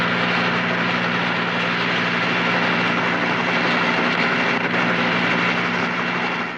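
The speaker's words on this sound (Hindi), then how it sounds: "इस हेलीकॉप्टर की आवाज ने तो मेरी कंसंट्रेशन ही तोड़ दी" A continuous loud mechanical roar with a low steady hum, like a helicopter passing overhead, holding constant throughout without any talking.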